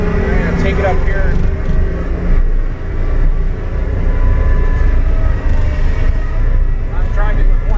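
A John Deere 331G compact track loader is driven, its engine giving off a steady, loud, close rumble throughout while someone talks over it.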